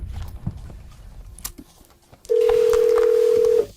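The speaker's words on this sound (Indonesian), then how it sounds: "Aku telepon sekarang." A telephone tone comes in clear and steady for over a second, loud and close, as a call is placed after some quiet shuffling and handling noise.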